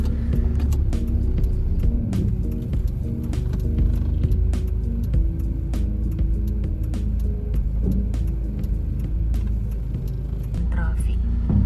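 Queued car traffic outside a supermarket car park at Walter Mart: a steady, close, low engine rumble with idling and creeping vehicles that never lets up across the whole stretch.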